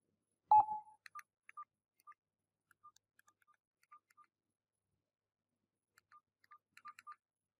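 Soft keypad beeps from a mobile phone while a payment is being confirmed: a louder initial tone followed by a scattered series of short, faint beeps in quiet surroundings.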